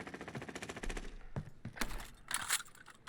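Video-game gunfire in Call of Duty Warzone: a rapid automatic burst rattles steadily, then gives way to scattered, louder single shots and short bursts, up close and with no talking.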